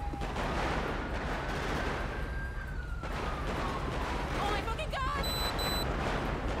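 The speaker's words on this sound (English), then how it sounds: "How long is that gunfire gonna go on?" Rapid gunfire crackles continuously through a noisy LSPDFR police patrol game scene, with a siren-like tone rising and falling and a voice partly audible underneath.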